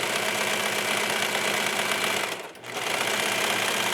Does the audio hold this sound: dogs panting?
no